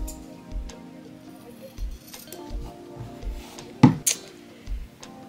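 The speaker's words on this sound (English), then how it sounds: "we're going to cut the seam allowance to 1/8 inch" Scissors snipping the seam allowance of freshly sewn fabric camisole straps, a handful of soft, spaced clicks with one sharper close snip near the end, quiet overall against a faint background hum.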